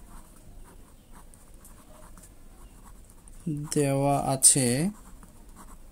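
A teacher writes out a maths solution with faint, quiet scratching strokes, followed by a short burst of nearby speech toward the end.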